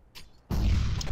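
A grenade explodes in the game Counter-Strike: a sudden loud, broad blast cuts in after a brief quiet moment and rumbles on until the end.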